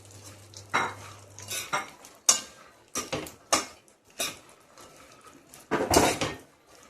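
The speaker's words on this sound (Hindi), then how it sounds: "अब मैं इसमें अखरोट डाल देती हूँ, ये भी 250 ग्राम है और इनको भी मैं अच्छे से फ्राई कर लेती हूँ।" Walnuts fry in a pan while a spoon stirs and scrapes them, giving a run of close, clinking metal strokes and scrapes over a faint sizzle, fairly quiet overall.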